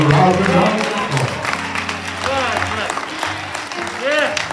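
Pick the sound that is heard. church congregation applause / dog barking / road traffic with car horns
church congregation applause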